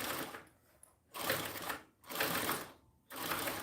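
A sewing machine stitches a second seam in bursts, a close buzzing motor whir that starts and stops three times with short quiet gaps between runs.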